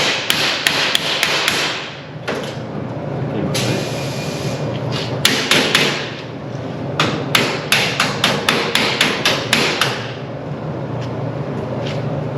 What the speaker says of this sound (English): This side has some damage on it. I'm going to hammer it a little bit.